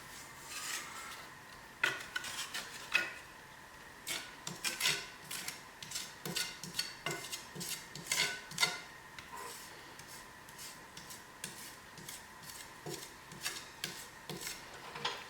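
Plaster being pressed and spread onto a cracked wall with a trowel, giving repeated close scraping and tapping strokes in an irregular rhythm with quiet gaps between them.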